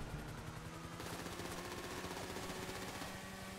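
In the video game GTA 5, gunfire is aimed at police: rapid automatic bursts crackle continuously, fairly loud and dense, with the shots running together throughout.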